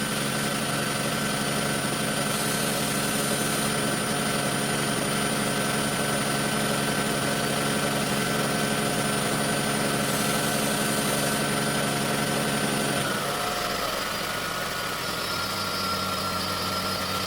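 A 2010-2015 Toyota Prius engine running steadily after a spark plug change to cure a misfire, a constant close drone with a slight shift in tone near the end, no talk.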